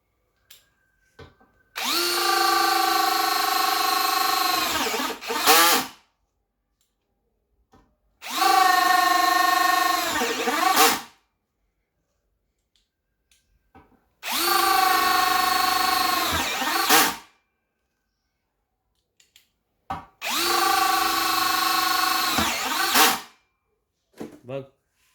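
A Bosch BL-5120 brushless cordless three-function hammer drill runs at its maximum level 10 setting, four loud sustained bursts of high-pitched motor whine and hammering, each a few seconds long with short silences between.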